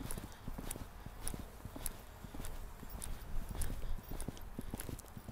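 A ridden horse canters in a riding lesson, steady rhythmic hoofbeats close by and fairly quiet, continuing throughout with no talking.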